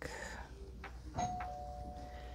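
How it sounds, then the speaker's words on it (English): A doorbell rings indoors, its bright tone sustained with chime harmonics, sounding once fairly near against a low room hum and a few faint background sounds. "That is my child ringing the doorbell"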